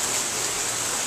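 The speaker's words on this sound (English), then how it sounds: "we're having a thunderstorm and rain, if you can hear it." Steady, dense rain hiss fills the scene, a continuous wash of falling water with no distinct thunder in this short stretch.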